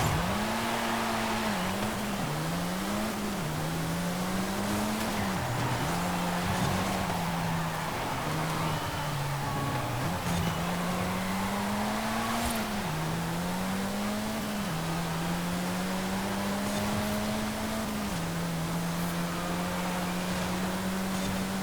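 A Saleen S1 race car in Forza Horizon 5 races against a Toyota Supra, its engine droning loud and continuously. The pitch climbs and dips repeatedly through gear changes and throttle lifts, with no talking over it.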